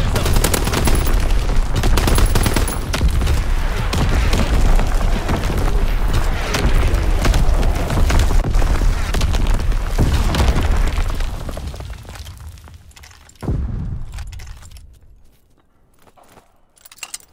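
A Call of Duty: WWII battle erupts in dense gunfire, rapid bursts and heavy booms from an artillery barrage. The barrage fades after about twelve seconds, one more close blast follows, and then it goes quiet.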